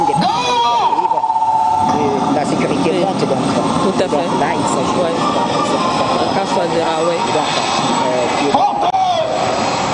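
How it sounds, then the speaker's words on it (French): Helicopters providing air security over an independence anniversary ceremony in the Central African Republic roar as a continuous loud engine drone, with commentators speaking over it throughout. "Les hélicoptères assurent la sécurité justement aérienne."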